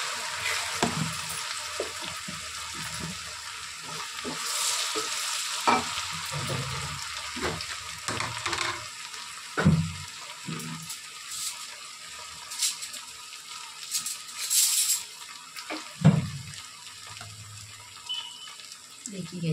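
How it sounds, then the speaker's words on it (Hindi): Ingredients sautéing in a pan for Hyderabadi chicken biryani give off a steady hissing sizzle with occasional stirring clatter and scrapes. It is close and moderately loud, with brief soft noises now and then. "अच्छे से भून लेंगे।"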